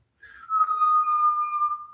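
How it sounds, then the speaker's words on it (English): A steady whistling tone made by drawing breath in through a rounded mouth during a Kundalini yoga breathing exercise, holding one sustained pitch for over a second after a brief start, close and clear with no talk. "making a whistle noise, and then exhaling through the nose"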